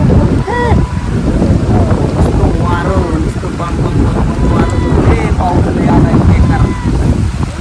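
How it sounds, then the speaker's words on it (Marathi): Strong wind roars continuously into the microphone with rain falling throughout, while people talk intermittently over the steady noise. "लय आडवळे पाऊस दिसतो, वारा तिकडचं"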